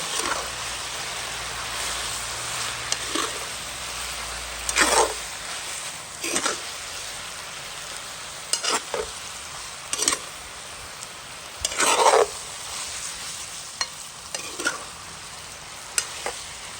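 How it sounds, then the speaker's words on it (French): Pork and mushrooms frying in a pan are turned with a utensil, giving a steady sizzle broken by scraping strokes every second or two, close and clear, with no voices. "On va mélanger bien."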